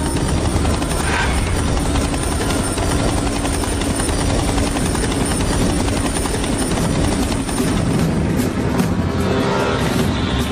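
Helicopter rotor and engine noise, loud and close, throbbing steadily through the whole stretch with no voices over it.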